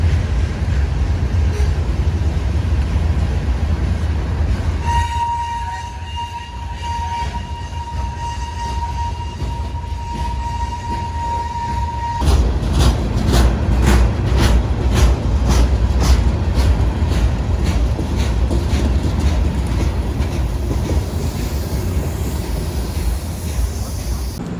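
A CSX freight train passes on the rails in Miami, Florida, a loud continuous rumble close by with a sustained horn-like tone, then rhythmic clacking of wagon wheels over rail joints.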